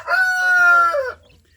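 A single free-range village rooster crows one long, clear, loud cock-a-doodle-doo close by, then fades into quiet farmyard ambience.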